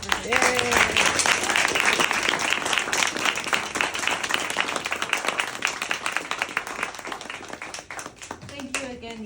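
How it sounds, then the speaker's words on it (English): A crowd at a book release party in San Diego claps in a full, lively round of applause that gradually thins out, with a voice briefly heard at the start and again at the end. "Let's give a round of applause for this."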